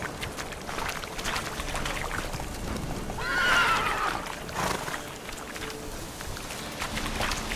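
Roach, a horse in the video game Witcher 3, gives a clear whinny midway through a steady wash of in-game ambience, with faint hoof and water-like noise around it and no talk.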